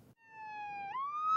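A single emergency vehicle siren tone with a low-frequency Rumbler holds steady, then sweeps upward in pitch, close and clear with a faint low rumble underneath.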